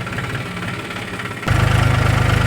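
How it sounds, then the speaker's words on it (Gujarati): A tractor engine chugs in a farm field, idling with a rhythmic knock before revving up abruptly midway into a louder, heavier throbbing pulse close by. "મિત્રો સ્નેહલ આવી જઈ છે ટ્રેક્ટરનો ઓટો મારવા માટે ખેતરની અંદર"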